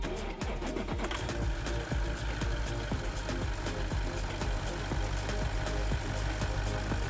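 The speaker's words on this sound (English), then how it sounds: "I connected the oscilloscope and started the engine." A diesel car engine with preheating glow plugs idles close by, a steady chattering knock ticking in a fast, even rhythm.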